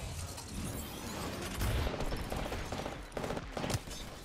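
Gunfire in the battle royale game Apex Legends, a dense, continuous clatter of shots and combat noise, with a few sharper, louder bursts close together near the end.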